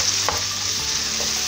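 Aderezo for chickpeas with spinach being stirred and fried in a pan, a constant close sizzle with a faint scrape of the spoon partway through, short and unaccompanied by talk.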